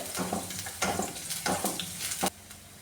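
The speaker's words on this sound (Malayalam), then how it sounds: "വെളുത്തുള്ളിയും ഇട്ട് കൊടുക്കുകയാണ്. ഇത് നന്നായിട്ടൊന്ന് ചൂടാക്കി എടുക്കാം." Garlic and ginger frying in hot oil in a pan for a Kerala-style moru curry: a steady close sizzle with several bursts of stirring scrapes, and no talk.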